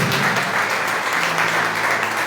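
A church congregation at a Monte da Fé gathering in Nova Russas applauds, a dense, even wash of many hands clapping that holds steady throughout.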